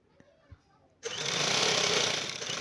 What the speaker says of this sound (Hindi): बिल्कुल किनारे किनारे पे सिलाई लगा लूँगी